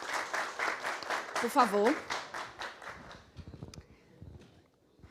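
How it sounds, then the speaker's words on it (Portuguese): An audience at a tech innovation panel event applauds the panel guests with a few seconds of brisk clapping that fades out, followed by a brief spoken word and quiet room noise. "Queria uma salva de palmas aqui para as nossas convidadas."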